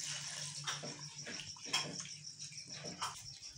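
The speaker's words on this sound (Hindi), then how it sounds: "इसके अंदर हम लोग और पानी ऐड करेंगे।" Water is poured and stirred into flour by hand to make sohan halwa batter, with soft splashing and squelching in uneven bursts over a faint steady hum.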